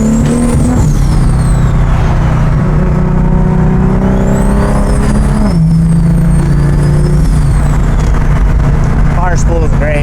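A 1400-horsepower turbocharged car spools up and accelerates, its loud engine drone close and continuous while rising whistling turbo tones sweep above it.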